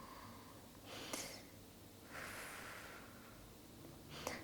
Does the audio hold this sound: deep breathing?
yes